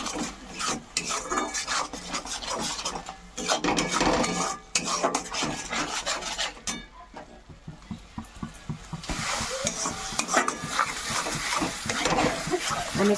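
Spices being stirred and fried with boal fish curry in a pan, coriander powder and salt just added; a steady, close scraping and rasping of a utensil against the pan with sizzling, in repeated strokes, no talk.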